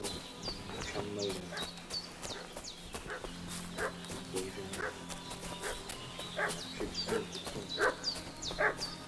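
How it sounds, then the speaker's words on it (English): Dog barking in Kingdom Come: Deliverance II, a series of sharp repeated barks and yips over a busy game soundscape with birds and a low ambient hum, continuing steadily throughout. "What's that dog making such a fuss about?"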